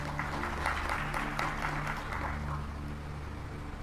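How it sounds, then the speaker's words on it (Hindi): Audience clapping at a Hindu Bhagavat Katha religious discourse, a dense patter of hands lasting several seconds over a steady background hum and slowly fading. "जिनको समझ आई उन्होंने ताली बजाई।"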